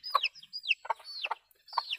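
A chicken clucks and squawks close by in four short, separate calls with brief quiet gaps between them.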